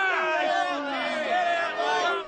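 A raucous crowd at a service cuts rally on the steps of Parliament in Darwin boos and shouts at the Chief Minister, a dense, sustained wall of jeering voices close and loud throughout.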